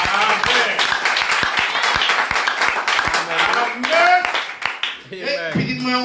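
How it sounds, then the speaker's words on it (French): A church congregation claps for a brother during a service, a lively burst of rhythmic, fairly steady clapping from many hands, with voices calling out and speaking over it toward the end. "On va avoir applaudissement pour Frère Saint-Dieu."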